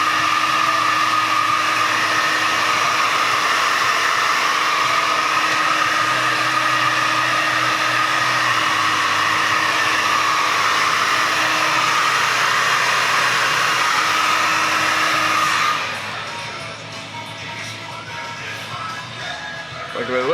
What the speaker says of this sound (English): Now because I blow dry it this way